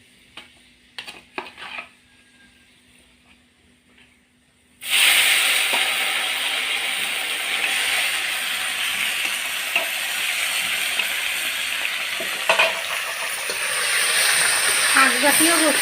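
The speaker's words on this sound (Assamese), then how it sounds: "এতিয়া মেথি গুটি অলপমান তেলত দি লওঁ। তেলত দি তাৰপিছত এই বিলাহীখিনি ভাজোঁ।" Tomatoes dropped into hot oil with fenugreek seeds for a purslane and fish curry: a few faint kitchen clatters and a brief voice, then a sudden loud, close sizzle that hisses steadily to the end.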